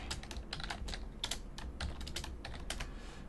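Fast, irregular clatter of keys on a computer keyboard during Angular programming work, quiet and close, with no speech.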